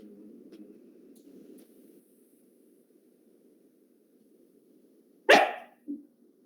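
A dog barks twice, sharp and fairly close, after a stretch of faint low hum.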